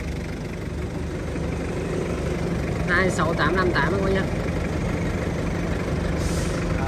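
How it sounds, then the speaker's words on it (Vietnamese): A Japanese TCM 2.5-ton forklift with an Isuzu engine idles with a steady, rumbling drone, while someone talks briefly over it. "Xe này thì chạy động cơ của xe 10 của Isuzu, dòng TCM đặc trưng này."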